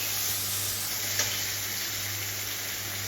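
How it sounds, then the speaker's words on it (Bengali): Katla fish fries in a pan with a steady, even sizzle close by, one faint tap rising briefly partway through the hiss. "তো এখন মাছ ভাজছে"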